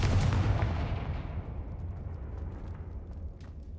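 A Confringo explosion spell goes off in Hogwarts Legacy as a single loud, booming blast that rolls away into a long fading rumble, with no talking.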